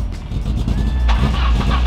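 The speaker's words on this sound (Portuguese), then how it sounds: "Liga o carro aí, Fera." A Peugeot 306 running on ethanol with a doubtful battery cranks over and catches, a low rumble swelling into a steady idle that grows louder near the end, with a voice briefly audible nearby.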